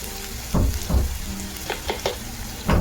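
Tomatoes drop into onions frying in a pan for Maharashtrian misal, giving a steady close sizzle with several louder hissing bursts and stirring scrapes as the pieces hit the hot oil.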